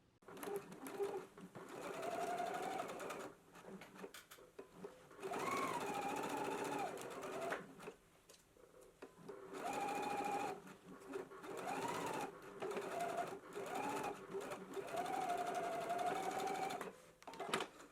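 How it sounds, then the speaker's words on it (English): Sewing machine stitching a 5/8-inch seam on a McCall's M8384/8385 garment, running in several sustained bursts of steady whirring with short pauses between, close and fairly quiet. "we can go ahead and stitch at a 5/8 of an inch seam allowance"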